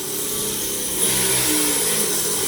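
Budget RC car driving with a buzzing whine that stays steady, then rises and gets louder about midway as it speeds up, heard close with no voices.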